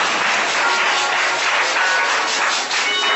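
A church congregation applauds to acclaim the Lord, sustained dense clapping at even loudness with no clear speech over it.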